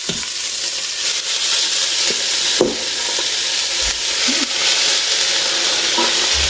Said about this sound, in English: I'll now go ahead and add my callaloo to my sauteed onion and garlic